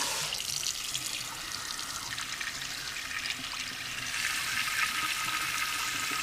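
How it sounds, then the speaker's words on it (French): Water pours steadily through a Malossi engine cylinder on an MBK 51 XR moped, a continuous close splashing trickle with a bright hiss, growing slightly fuller toward the end. "Donc vous faites couler de l'eau."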